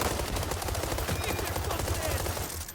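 Rapid automatic gunfire in the shooter game World War 3, dense bursts of rifle shots rattling continuously and loudly, with a player's voice talking over the shooting.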